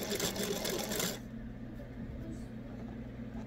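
A sewing machine stitches a hanging towel in a short loud burst of about a second, then stops; a low steady hum carries on underneath.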